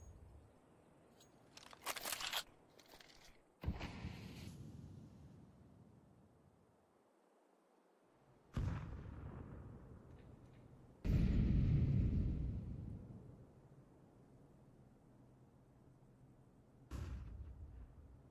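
Grenade blasts and gunfire from a Counter-Strike match, with several sharp bursts and a longer rumbling explosion spread over a fairly quiet background.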